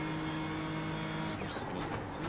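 Race car engine in the iRacing sim, a car quicker than a GR86, droning at a steady, fairly quiet pitch with a brief higher squeal or tyre scrub partway through; no talk.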